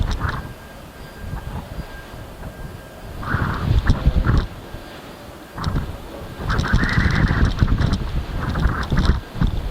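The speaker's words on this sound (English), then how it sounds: "We've got wind gusts actually." Gusts of wind buffet the microphone in rising and falling rumbles at Luton Airport on a blustery day, growing stronger toward the end, with faint chirps in the background.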